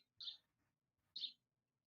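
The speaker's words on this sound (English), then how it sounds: "Somebody's birds are really happy." Birds chirp outdoors near a park, two short, bright chirps about a second apart, faint and distant against near silence.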